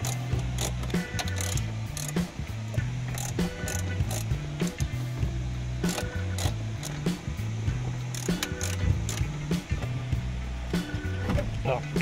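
A ratchet socket wrench working bolts loose from a Cadillac Escalade radio and navigation unit, a rapid repeated clicking ratchet rhythm up close, with people talking over it.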